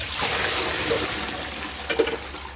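Water runs steadily from a tap in a continuous broadband hiss, with a couple of brief splashes and clinks near the end as dishes are rinsed.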